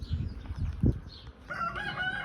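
Backyard chickens clucking close by outdoors on a spring day, with a sustained higher call toward the end, over light ambient noise.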